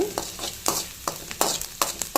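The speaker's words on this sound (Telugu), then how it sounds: "ఉన్న ఆయిల్లోనే ఇదిగోండి ఎర్రగడ్డలు వేయిస్తున్నాను" Onions sizzle in oil in a pan, a steady crackling fry punctuated by rhythmic scraping stirs about every half second, close and moderately loud.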